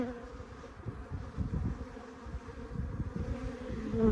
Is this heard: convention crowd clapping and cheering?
no